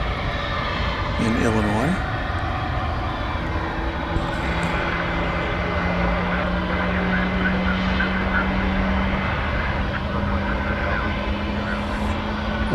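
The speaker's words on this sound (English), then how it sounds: "One of our viewers said this is among the oldest tri-jets in the UPS fleet." An old UPS tri-jet cargo aircraft takes off from DFW Airport with a broad, steady engine roar that carries on under continuous talking.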